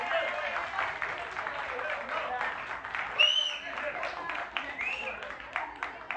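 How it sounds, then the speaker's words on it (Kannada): An audience at a podcast event claps in a lively burst of applause. Voices and cheers mix in over the clapping, which rises and falls throughout. "ಅದಕ್ಕೊಂದು ಜೋರಾಗಿ ಒಂದು ಚಪ್ಪಾಳೆ ಬರ್ತೀವಿ"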